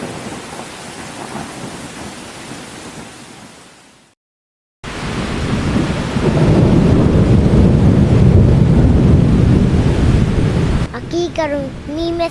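Heavy cartoon rainstorm with rumbling thunder: a dense roar of rain, a sudden cut to silence, then a louder surge of downpour and thunder, ending with brief musical tones over the rain.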